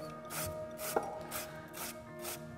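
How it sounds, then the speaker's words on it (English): A cucumber rubbed down the coarse side of a hand grater into a bowl, making steady rhythmic scraping strokes about every half second, close and clear with no voices. "from the bigger sides, you know, the bigger holes, I'll grate this cucumber."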